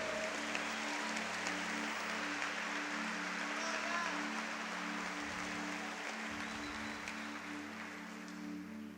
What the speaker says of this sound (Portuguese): Então talvez a gente esteja quer aplaudir ao Senhor